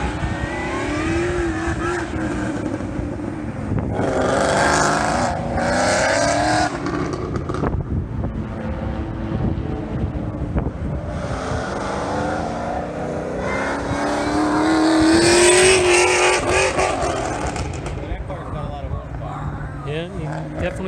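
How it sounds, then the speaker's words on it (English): A supercharged, blower-equipped Chevrolet engine revving at a collector car show, rising and falling in several loud swells with a big surge near the end, while people talk nearby. "Definitely sounds like it's supercharged. It's got a blower under there."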